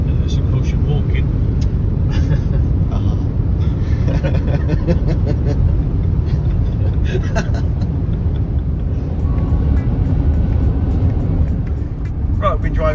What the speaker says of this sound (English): we've been driving for about an hour and a half